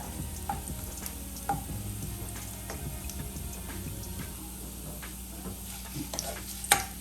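Cooked drumsticks and onion slide into hot oil in a pan for a Kerala-style curry, and a continuous close sizzle rises with scattered ticks, spatters and stirring clinks and a sharp pop near the end, with no voices.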